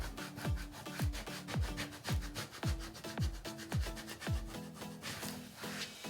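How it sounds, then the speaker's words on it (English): Vinyl pieces being rubbed down onto a Cricut sign with a tool, about a dozen quick, rhythmic scraping strokes close up, evenly spaced and alone without talk. "we're just gonna go in here and rub, rub, rub, and get all of our pieces down"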